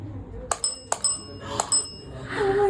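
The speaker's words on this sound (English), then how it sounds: "Was that your bell ringing" Several short, bright bell rings, spaced irregularly, sound in a quiet room of a supposedly haunted house, the Lizzie Borden House, with soft speech-like sounds around them and a sustained whistling tone near the end.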